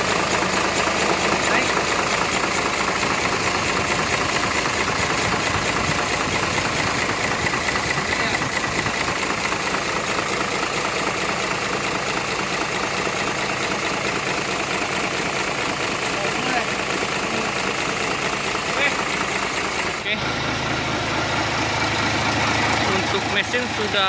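A Hino J08E truck diesel engine runs steadily and loudly throughout, a dense rumbling drone that shifts tone briefly near the end.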